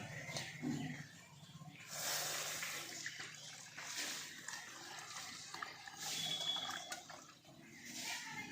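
A litre of milk poured into a wok over a lit stove, giving a soft rushing, gurgling pour that comes in a few separate surges.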